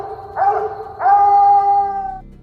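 A dog howls in two long, rising, tonal cries, the second stretching out and holding before tapering off, loud and close over a quiet background.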